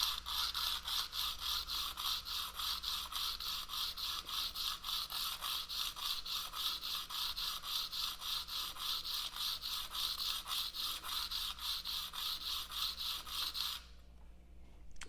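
Broadhead blades swiped repeatedly across a sharpener, a fast even train of close scraping rubs, roughly two to three per second, continuing steadily before stopping abruptly.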